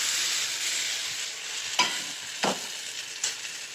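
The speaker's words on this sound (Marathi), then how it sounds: "ते टाकून चांगलं हलवून घ्यायचं" A spoon stirs tomato, potato and coconut gravy in a hot pan over a steady bubbling sizzle, with three distinct scraping knocks against the pan, close and alone.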